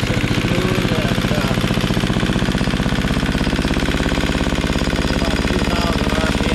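A single-cylinder thumper engine runs at fast idle with a rapid, even pulsing beat, loud and close, holding steady throughout with no talk.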